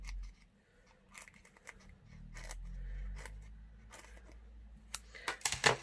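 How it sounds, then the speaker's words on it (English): Scissors trim the edge of paper dimensional adhesive pieces in a crafting session, a run of soft close snips and crinkly rustles, growing louder and more clustered toward the end; no speech. "So I'm just going to trim the edge a bit more"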